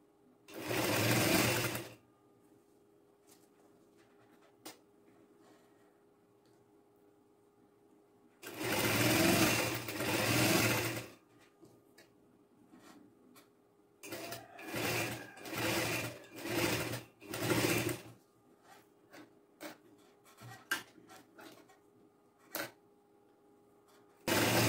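A sewing machine stitches a 3.5-inch border onto a girls' trouser hem below a net panel, running in several loud bursts: one long run near the start, another in the middle, then a string of short stop-start passes with quiet gaps between.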